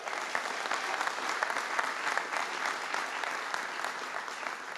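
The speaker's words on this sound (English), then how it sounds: "Give him a big round of applause." An indoor crowd claps steadily for a county fire chief at a political event in Chesterfield, Virginia, a dense sustained round of applause with no talking.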